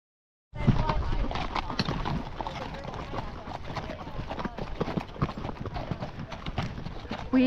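Horses on a saddle club trail ride at Pistol Hill near Tucson, hooves clip-clopping steadily and close at a walking pace, with occasional snorts and riders talking over the hoofbeats.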